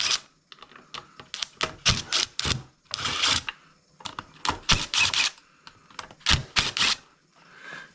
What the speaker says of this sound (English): we've got a 7/16 socket here. I'm going to go ahead and take the 4 nuts off the front.